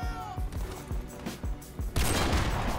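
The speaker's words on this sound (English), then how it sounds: "Oh, there's a guy up there. Let's snipe him." Rapid crack-like gunfire bursts in Modern Warfare Remastered, a run of sharp, evenly spaced shots followed by a denser burst, loud and close with no talk.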